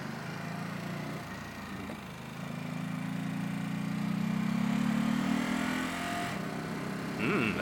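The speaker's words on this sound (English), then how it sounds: "A Evo 7." A Mitsubishi Lancer Evo 7 car passes by, its engine note rising and swelling to a peak mid-clip, then fading, over a steady motorcycle idle nearby.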